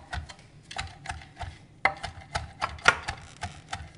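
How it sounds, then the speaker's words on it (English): A knife chops fresh rosemary leaves on a board, a quick series of close, crisp taps in an uneven rhythm, some strokes landing harder than others. "So let's go ahead and give that a nice chop."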